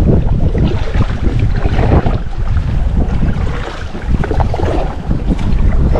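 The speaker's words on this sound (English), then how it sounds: "The wind has picked up, and we're going into it" Strong wind buffets the microphone while paddling a compact kayak into a headwind on Tampa Bay in winter, a steady loud roar with water splashing and lapping throughout.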